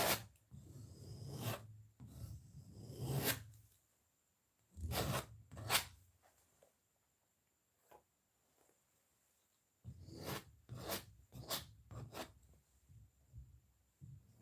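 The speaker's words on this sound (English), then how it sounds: "Just going to continue to scrape." A palette knife or scraper drags across wet white oil paint over red on a canvas during an abstract flower painting, giving several rasping strokes in bursts with quiet pauses between, close and fairly soft.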